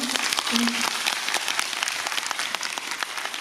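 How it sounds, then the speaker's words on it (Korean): Audience applause at a Busan International Film Festival guest visit screening of Weak Hero, a dense steady patter of many hands clapping throughout, with a brief voice and crowd murmur near the start. "박수 한번"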